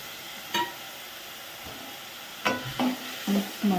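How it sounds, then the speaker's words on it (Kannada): Chopped tomato hits a hot pan for South Indian bendekaya saru, with a quiet sizzle broken by several sharp spatula scrapes and taps that cluster toward the end. "ಹೆಚ್ಚಿಟ್ಕೊಂಡಿರೋ ಒಂದು ಟೊಮೊಟೊ ಹಾಕಬೇಕು."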